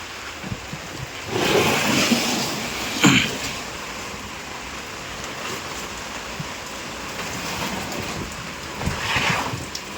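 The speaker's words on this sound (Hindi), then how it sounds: "तो गाइस बारिश गिरनी चालू हो गई तेजी से।" A steady wash of rain hisses throughout, with a passing vehicle swelling briefly and a few louder gusts of spray.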